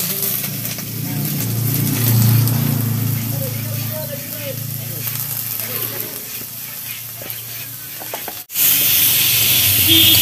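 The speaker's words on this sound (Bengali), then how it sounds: "এই যে দেখুন আলু আর পটলটা ভাজা হচ্ছে" Potato and pointed gourd pieces frying in hot oil give a steady, close sizzle that runs for several seconds, then cuts off briefly before a brighter hiss resumes.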